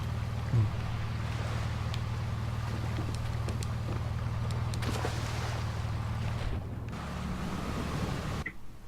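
A steady, low boat engine hum from a video game drones continuously with faint wash and wind-like noise, briefly cutting out near the end before resuming.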